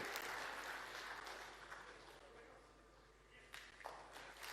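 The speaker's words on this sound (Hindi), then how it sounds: "आइए जोरदार तालियों से माननीय मुख्यमंत्री जी का स्वागत करें।" Faint, steady applause from a large crowd at a government farmers' welfare event welcoming the state chief minister, a continuous dense wash that thins slightly midway and picks up with a few sharper claps near the end.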